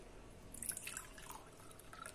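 Mint juice poured into a sterilized jar for a homemade rose water toner, a light trickling with soft drips rising midway, quiet and close, no speech.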